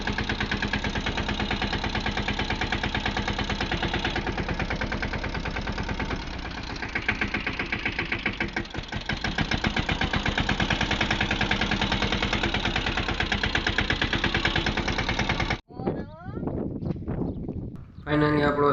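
A Mahindra Yuvraj 215 tractor engine idles steadily nearby during farm manure loading, a loud, continuous pulsing chug that cuts off abruptly near the end before rough mechanical noise returns.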